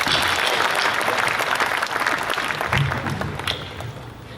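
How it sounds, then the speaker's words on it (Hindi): A crowd at a Hindi poetry gathering gives loud, dense applause that slowly fades over a few seconds. "एक बार आपकी तालियां इस बात के लिए भी बजाएं।"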